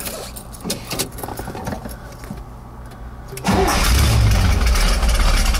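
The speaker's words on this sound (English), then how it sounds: "And we will go ahead and do a cold start." Quiet rattling and key jangles, then a 1969 Chevrolet Corvette engine cranks on a cold start and roars to life, settling into a loud, rumbling idle up close.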